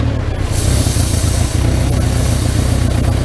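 A Subaru engine idles rough and loud after its wiring harness has been pulled, a dense low rumbling drone with a tractor-like chug that continues steadily, with no voices.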